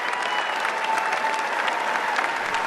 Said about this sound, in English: that's your biggest applause line